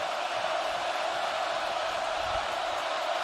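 Dense, steady roar of a packed college football stadium crowd at Oregon during an Oregon versus UCLA game, loud and continuous with no letup.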